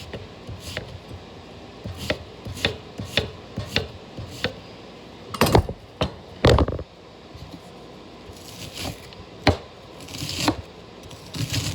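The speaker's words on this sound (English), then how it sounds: "I got to chop my onion." A knife chops an onion on a board for black bean chili, making a string of sharp, irregular knocks close by with short pauses between strokes and no talking.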